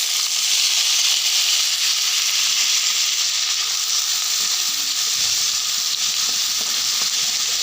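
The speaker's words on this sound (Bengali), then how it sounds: "রসুন আমার হালকা ভাজা হয়ে গেছে, এখন আমি পেঁয়াজ কুচি দিয়ে দিব" Chopped onions and green chilies fry in hot oil with lightly browned garlic for a soybean bhuna, giving a loud, continuous close sizzle with occasional stirring and no talking.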